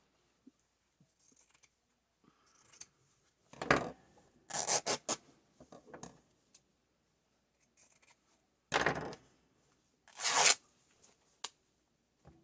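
Several short bursts of fabric ripping, postage stamp fabric, each a sharp tearing rasp, separated by quiet pauses with faint handling noises between them.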